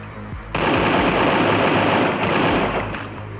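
Gunfire in Garena Free Fire: after a short quiet lead-in, a loud, close, sustained automatic burst rattles on for nearly three seconds before tapering off.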